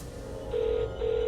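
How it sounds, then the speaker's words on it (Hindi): Phone ringback tone over a loudspeaker, two steady electronic ring bursts close together, loud and clear with no talking. "फोन लगाओ निखिल को"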